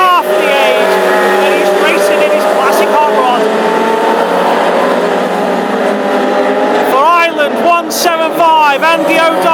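Classic hot rod race cars on a circuit in Tipperary during an Irish Grand Prix, with engines droning and rising in pitch as they pass, under continuous race commentary.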